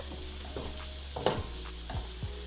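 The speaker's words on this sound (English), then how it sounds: "And just toss these with the oil, the butter, and the garlic." Sliced mushrooms stirred and tossed in a pan with oil, butter and garlic, a low steady sizzle with a few soft stirring scrapes.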